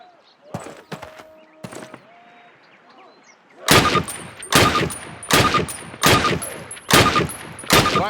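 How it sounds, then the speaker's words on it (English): Rifle shots fired at a target on a Call of Duty (2003) training range: a few lighter distant cracks, then a steady run of six loud, close reports at roughly one-second intervals, each ringing out. "Approach the fence and fire 6 rounds at your target."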